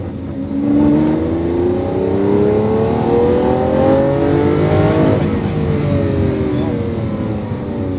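A race car on a track during a driving course accelerates out of a corner, its loud engine note climbing steadily in pitch, then shifting and pulling again.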